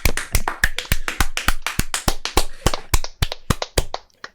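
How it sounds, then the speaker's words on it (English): A small group of people clapping hands for a podcast sync, roughly twenty sharp, close claps in a quick, uneven rhythm that scatters and thins out at the end. "Everyone clap."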